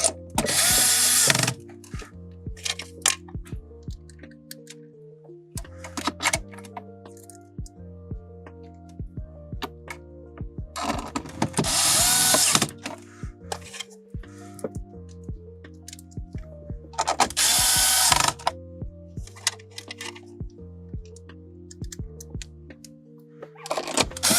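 Power drill driving screws while mounting a car radio in a Lexus LX, repeated short high whirring bursts with ratcheting clicks and clunks of handling in between, close and loud.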